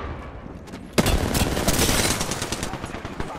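Sustained automatic gunfire from the Apex Legends battle royale video game, a sudden loud burst that kicks in after a quiet moment and continues as rapid, dense shooting with overlapping shots, close and intense.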